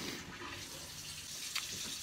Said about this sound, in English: Can you run that hot water for me?